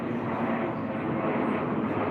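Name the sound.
airplane flying overhead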